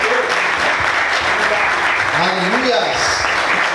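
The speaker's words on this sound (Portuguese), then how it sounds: "Vamos aplaudir Jesus bem forte" A church congregation applauds loudly and steadily throughout, with a voice calling out over the clapping.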